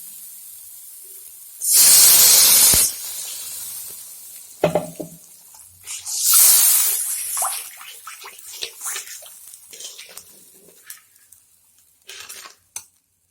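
Water poured into a pan of fried masala for a matar paneer curry, a loud sudden sizzling hiss that fades, followed by a second burst of sizzling, stirring and scraping clatter.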